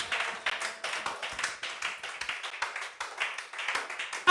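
A congregation at a church service claps together in a steady, brisk rhythm, the sharp hand claps repeating evenly and fairly close, with no talking over them.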